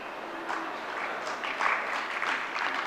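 Audience applause during a Jain religious discourse, soft and distant, a continuous even patter of clapping with a faint voice beneath.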